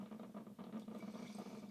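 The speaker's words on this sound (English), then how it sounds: "I'm going to pour my coffee" Coffee pours into a cup in a steady, quiet liquid trickle with a low gurgle for under two seconds, faint and heard on its own.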